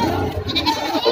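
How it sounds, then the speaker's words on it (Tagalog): Goats bleat over a busy, noisy outdoor goat market background, several overlapping cries in a short burst. "Maraming kambing ang dumating ngayon."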